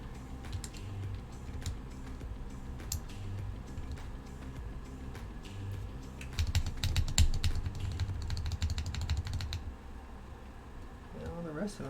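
Typing on a Portico 65 keyboard fitted with Kiwi switches, a steady patter of keystrokes at close range that grows denser and louder midway before stopping near the end, with some speech mixed in.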